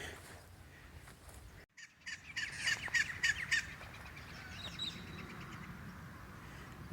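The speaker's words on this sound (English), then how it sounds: "We have entered the zone of the other baby magpies, or the other magpies." Australian magpies calling outdoors during an urban walk, a short burst of harsh, warbling calls at moderate distance over steady ambient background, then a fainter call fading back into quiet.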